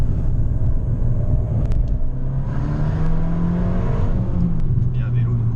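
An Abarth 595 turbo hatchback accelerating from inside the cabin, its engine note climbing steadily in pitch under a constant road rumble, with a person speaking briefly over it.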